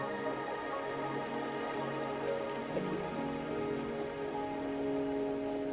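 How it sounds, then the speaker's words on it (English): Steady rain in a video game, a soft, even patter on surfaces that holds throughout, fairly quiet, with faint musical tones underneath and no speech. "Are you trapped here by the rain?"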